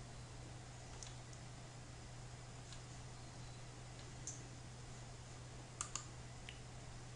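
A few faint, sharp computer mouse clicks, one alone and then a quick pair near the end, set against a steady low hum in a quiet room.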